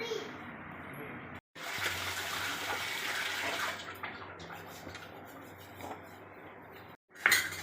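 Water from a kitchen tap runs steadily while raw chicken is washed by hand. Light clatters break in now and then, and a voice speaks faintly underneath.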